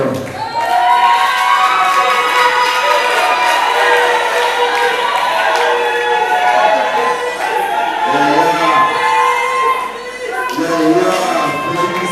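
A festival crowd cheers loudly and continuously during a diploma presentation at the Tokanisa festival, a dense wash of shouting voices with some children's voices and scattered clapping.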